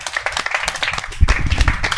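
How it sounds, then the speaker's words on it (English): A short burst of audience clapping at the close of a talk-show style speaking event, irregular hand claps fairly near with a few louder claps and some murmuring voices. "Round of applause, everybody."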